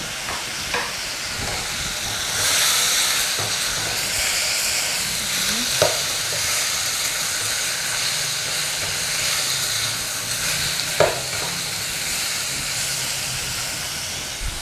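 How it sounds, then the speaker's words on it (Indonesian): Bay leaves, cinnamon, cardamom, star anise and whole pepper fry in hot oil for Hong Kong-style noodles, giving a loud, steady sizzle and hiss throughout with occasional stirring clinks. "Kita masukkan daun salam, kayu manis, kapulaga, bunga lawang, dan merica kita utuhkan."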